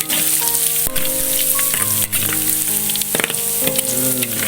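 Garlic sizzling and frying in hot oil in a pan, a steady close crackle with a few brief clinks and stirring sounds, no voices.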